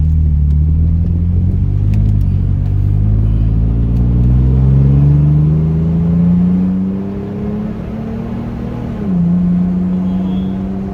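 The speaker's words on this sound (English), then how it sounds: "Yeah, it's a really smooth exhaust for sure. Definitely sounds better than factory." A Toyota Tacoma pickup with an R4T high-clearance cat-back exhaust accelerates through the gears, its smooth, mellow engine drone rising steadily in pitch, dipping at a shift, then climbing again, loud and close throughout with no talk.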